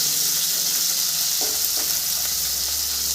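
Tengra fish fry in hot oil in a pan, a dense, continuous sizzling hiss with faint crackles, close and steady throughout.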